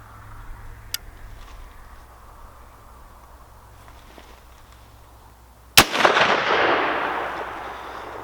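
A Cimarron 1874 Sharps rifle loaded with 325 grain FTX bullets fires a single loud, sharp shot outdoors, with a long rumbling decay after a quiet stretch of low background noise.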